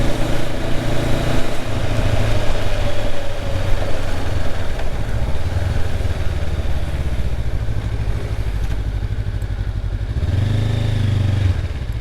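A Honda CB500F motorcycle courtesy bike runs steadily for the whole stretch, a close, loud, continuous engine drone that swells briefly near the end as the revs rise and settle, with no talking.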